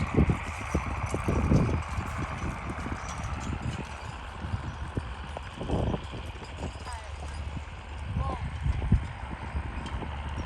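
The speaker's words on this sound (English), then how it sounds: "here we got the real old-fashioned way of farming. Little horses and plows." Hooves clip-clop steadily on the ground as horses pull a plow at a tractor show and plow day, amid a constant engine hum and outdoor noise, with scattered voices in the background.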